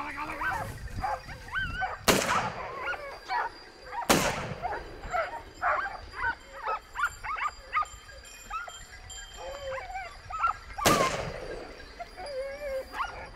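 Gunshots at a deer hunt in Spanish woodland, three sharp loud reports spaced apart amid barking and whimpering hunting dogs nearby.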